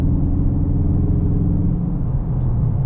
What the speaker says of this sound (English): the camera picked up that audio, that rumbling, so much power at when you press the accelerator